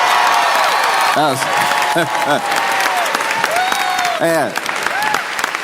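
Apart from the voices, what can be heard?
crowd booing J.D. Vance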